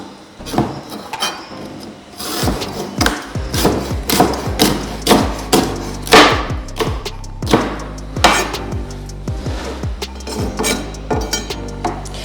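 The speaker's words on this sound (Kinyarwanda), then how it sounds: "Ikindi ntago icyuma ukata ukubita, ukata usa nkaho uvanye imbere ujyana inyuma." A knife chops vegetables on a cutting board for a simple salad, giving a steady run of loud, close wooden knocks and thuds with occasional light clinks and no voices.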